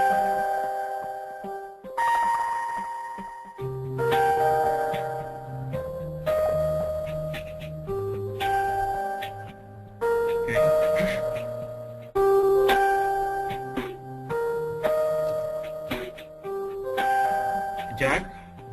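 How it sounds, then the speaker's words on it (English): Conference-call hold music from an attendee's phone, a chiming bell-like melody in repeated phrases over a soft bass line, thin and compressed like phone audio, playing on steadily in the background. "I can hear some background music, and I would appreciate if you guys can mute your devices."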